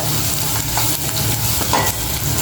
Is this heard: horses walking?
no